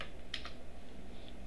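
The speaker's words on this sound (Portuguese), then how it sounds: "Se a gente jogar aqui, digitar Nitrogen aqui," Short bursts of computer keyboard typing, a quick cluster of close, faint key clicks and taps over a low room hum, with no voices.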